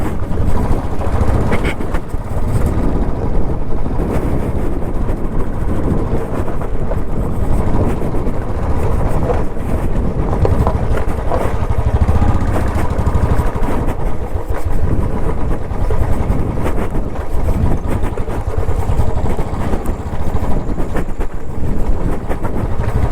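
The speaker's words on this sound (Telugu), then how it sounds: "ఆఫ్ రోడింగ్ అంటే కింద డైరెక్ట్ చెరువు దగ్గరికి తీసుకెళ్ళిపోతున్నాం బండిని" A vehicle engine runs steadily while driving off-road down toward a pond near Nandi Hills, a loud, continuous rumbling drone with rough bumps and rattles.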